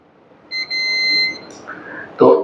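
A multimeter's continuity buzzer beeps while a phone circuit is being tested during repair, giving a steady tone for about a second that breaks briefly at the start, followed by fainter clicks and handling noise.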